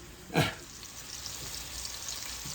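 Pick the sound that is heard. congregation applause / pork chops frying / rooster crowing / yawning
pork chops frying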